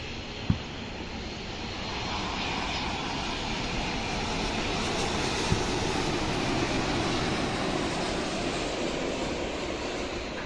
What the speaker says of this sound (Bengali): 5 ঘন্টা 45 মিনিট পথ উড়ে ঢাকায় অবতরণের জন্য এগিয়ে আসছে